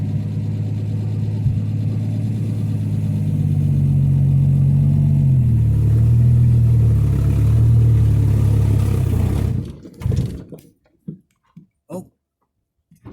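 A 1958 AMC Rambler Super engine revved to about 1,500 RPM, a loud, steady low drone with a slight rise in pitch midway, close by, cutting off sharply near the end and leaving a few faint clunks.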